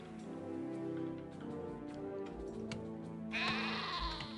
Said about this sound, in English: Must have been a stray sheep wandering around where one of our javelineers ran into them.